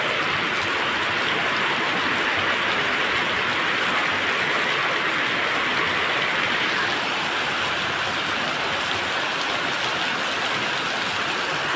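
Steady rain pours down at a base camp in a dense, even hiss that stays unchanged and loud for about twelve seconds, with no voices.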